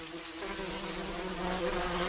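Wasps buzzing near their nest while ants raid it, a close, steady droning hum with a slight swell toward the end.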